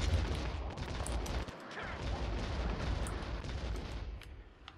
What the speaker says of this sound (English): I've just got to believe in myself and shoot you with a small rocket launcher